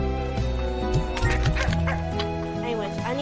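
Chickens in the video game Slime Rancher cluck in short bursts against a continuous, fairly loud bed of game music.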